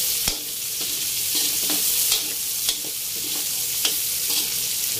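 Laing sizzling loudly in a pan as it is stirred, a constant frying hiss broken by regular soft scrapes of the spoon, close and without voices.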